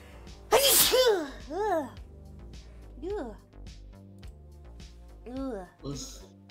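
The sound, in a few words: sneeze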